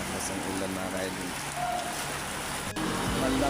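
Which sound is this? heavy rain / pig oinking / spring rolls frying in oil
heavy rain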